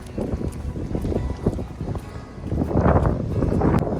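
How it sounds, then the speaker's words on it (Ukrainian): Gusty wind by water in Ternopil buffets the microphone with a low, rumbling roar that swells louder toward the end. "Тут дуже вітряно."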